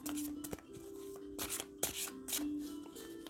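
Tarot cards being shuffled and drawn by hand: several close, papery riffles and flicks in irregular bursts over a steady low tone, with soft handling noises between them.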